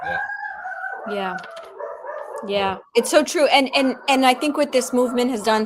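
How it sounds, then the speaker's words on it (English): A dog barks repeatedly at home during a live online talk show, with sharp yelps at the start and more barks mixed under a person speaking. "sorry about the dog barking"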